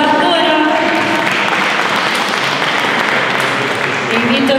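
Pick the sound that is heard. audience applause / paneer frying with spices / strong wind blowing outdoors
audience applause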